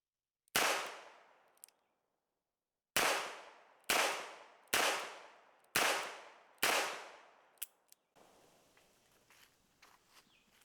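.357 revolver rounds, 158 grain full metal jacket, fired from a Henry Big Boy revolver: six sharp loud shots with ringing decay, one lone shot then five in a quicker rhythm, followed by quieter handling clicks.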